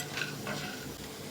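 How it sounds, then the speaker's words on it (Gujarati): A spoon stirs roasted mango seed mukhwas with asafoetida in a pan, giving a brief, close scraping rustle with a light sizzle underneath. "હવે મિક્સ કરી દઈશું."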